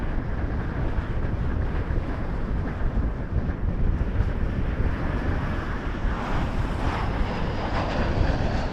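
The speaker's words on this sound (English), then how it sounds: "The wind is really picking up" Strong wind buffets an outdoor microphone beside the runways of Toronto Pearson Airport, a steady, loud broadband roar that never lets up, with no talking.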